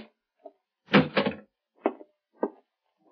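A door handled in a quiet room: a solid clunk of it opening followed by several short, sharp knocks and rattles of the latch and frame, close and distinct, with silence between them.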